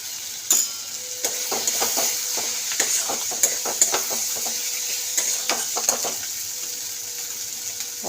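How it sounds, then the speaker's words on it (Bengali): Ground cumin and coriander powder fry in a pan with a steady soft sizzle, broken by repeated close scraping stirs of a utensil against the pan, with no voices. "এটা ভালো করে মশলাগুলো কষে নিচ্ছি।"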